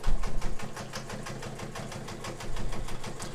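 Japanese-made Morse all-metal sewing machine stitching, a fast even mechanical rattle of needle strokes, louder at the start and end, close up with no talk.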